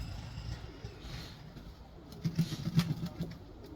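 Pigeons give soft, low coos nearby, a few rolling calls bunched in the second half over quiet background noise.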